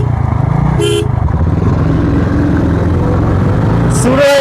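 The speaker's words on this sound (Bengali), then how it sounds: "রেডি, তুই তিনটা হর্ন দে" Motorcycle horns toot in short bursts on a highway before a drag race between a Royal Enfield Classic 350 and a Bajaj Boxer, over a loud, steady idling engine rumble close by.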